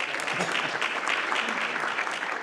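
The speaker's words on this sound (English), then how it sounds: "And a big round of applause for." Audience applause at a live business school talk, a brief, even burst of many hands clapping at moderate volume throughout.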